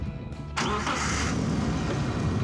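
A race car engine cranks and fires up after its start button is pressed, catching abruptly into a loud, steady idle that rumbles on close by with no talk.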